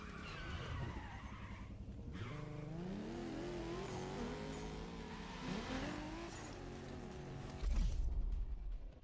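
A Shelby GT500 in the racing game The Crew Motorfest drones with a steady engine note that shifts pitch as it accelerates and skids, then swells into a louder, rougher burst near the end, with no talk.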